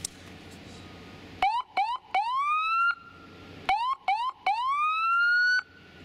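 A Federal Signal SmartSiren SS2000SS-SB sounds its yelp tone in loud, rapid rising whoops, several short bursts followed by a longer one, repeated twice with brief gaps, with no talking.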